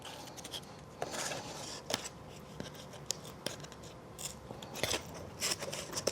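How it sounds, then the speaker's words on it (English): Scissors cut through folded paper with quiet, close snips and rustles that come at irregular intervals over a low background, with no talking. "you're gonna cut on each side of the fold, like that"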